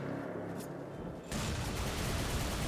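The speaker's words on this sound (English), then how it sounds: "What's that explosion?" A heavy burst of video game explosions and gunfire, starting with quieter rumbling and then breaking into a loud, dense, sustained blast about midway through.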